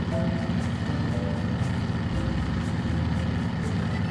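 Propeller aircraft engine in Microsoft Flight Simulator 2024, climbing out along a river: a loud, steady low drone with a constant rumble throughout, no voices over it.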